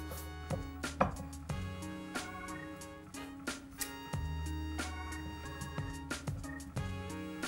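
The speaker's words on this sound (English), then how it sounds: "Cut it nice thin slices" A knife cuts thin slices from a cooked stuffed leg of lamb, giving a series of crisp, irregular cutting taps and thuds against a board, fairly close and alone.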